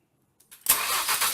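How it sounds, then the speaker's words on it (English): After a brief silence, a couple of short clicks lead into a 2016 Ford Focus RS catching and firing up, its engine settling into a steady, close idle. "Go ahead and crank it over."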